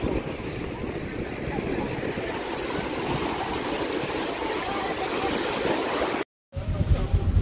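Sea waves wash continuously onto a beach at Barangay Nagbalayong in Morong, Bataan, a broad steady hiss of surf mixed with wind on the microphone. A short dropout cuts the sound before it resumes.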